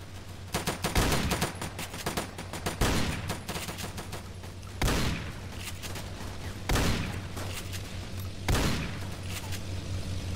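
Gunfire rings out in a Roblox WWII game, with five heavy booming shots spaced about two seconds apart over dense, continuous crackling battle gunfire, loud and close, with no talk.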